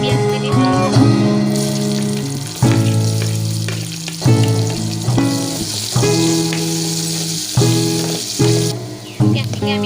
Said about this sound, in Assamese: পিঁয়াজখিনি আমি এতিয়া ভাজি আছোঁ, অকণমান ৰঙচুৱা হ'বলৈ দিম।